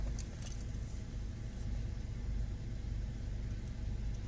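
A car drives off, a low steady engine and road rumble heard from inside the vehicle with a faint jingle of keys, quiet and continuous with no talk.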